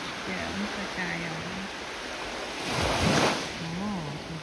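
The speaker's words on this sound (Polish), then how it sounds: "O, tu fala była duża." Baltic Sea waves break on the shore in a steady roar of surf, swelling into a louder crash midway, with wind noise on the microphone and a person talking over it.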